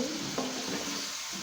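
Chickpeas frying in a pan as they go in, giving a steady close hiss of hot oil with a faint scrape or two from a spatula and no voices.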